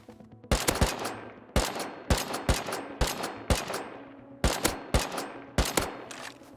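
Video game gunfire in a survival game: about a dozen sharp, loud shots in short bursts and single cracks, each with a brief decaying tail, spread evenly across the stretch.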